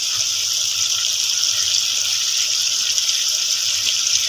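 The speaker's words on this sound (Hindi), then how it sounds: "चलिए हम भूनते भूनते थोड़ा सा पानी इसमें शामिल किया।" Water poured into frying spices for dal makhani makes a steady, close rushing hiss that runs unbroken for the whole stretch, with no voices.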